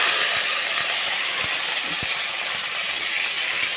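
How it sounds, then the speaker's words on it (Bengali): Raw shrimp hitting hot oil in a wok for a prawn and cauliflower chorchori, a loud, steady sizzling hiss that stays dense and continuous throughout, with faint clicks of stirring underneath and no talking. "কড়াই তেল গরম হয়ে গিয়েছে। এবার এই চিংড়িগুলো আমি তুলে দেবো।"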